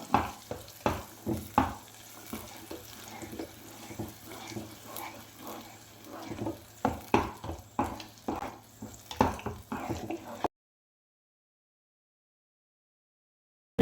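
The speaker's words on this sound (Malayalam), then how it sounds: "ബദാം ഇട്ട് ഒരു ഏഴ് മിനിറ്റ് വഴറ്റി കൊടുക്കുക" Ground almond paste sautéed in a pan for badam halwa, with a steady sizzle and repeated scraping stirs at an uneven rhythm, close by and fairly loud, ending abruptly before the clip is over.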